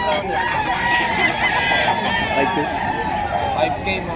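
A white-legged Picom gamecock at a busy pre-dawn rooster market in Bocaue, Bulacan, with crowing and clucking from many fowl mixed into steady crowd noise while someone talks nearby.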